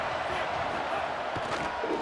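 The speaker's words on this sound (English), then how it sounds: "This crowd ready to make its presence known." A stadium crowd at a college football game roars in a steady, loud wash of noise that holds throughout, with a few sharper swells near the end.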